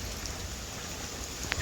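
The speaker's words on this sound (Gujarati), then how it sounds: "વરસાદ પડ્યો છે જોરદાર" Heavy rain pours steadily at night during a thunderstorm with strong wind, a continuous broadband hiss at an even level with one brief brighter splash near the end, no voices.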